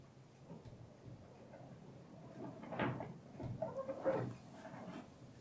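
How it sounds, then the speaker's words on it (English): Strong wind gusts through large beech trees in a garden, a soft rushing background that surges into two louder gusts, heard from indoors. "I don't know if you can hear it, but it's really windy."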